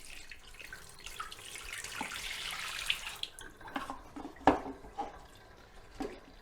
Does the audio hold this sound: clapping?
no